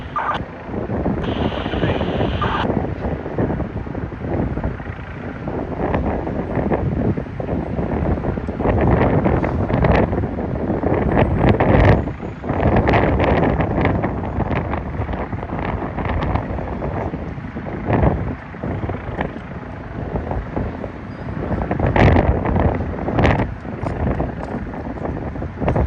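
Strong gusting wind buffets the microphone on a city rooftop during an FDNY response to a gas explosion, a steady loud roar with rumbling surges throughout.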